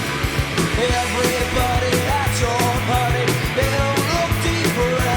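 A dense stretch of a rock song, with driving drums, bass and guitars playing steadily and loudly throughout, no talking over it.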